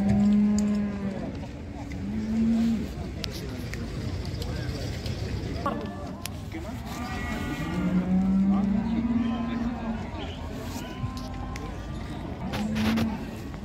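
At a busy livestock market, cows low again and again, the calls coming every few seconds over constant chatter and background bustle.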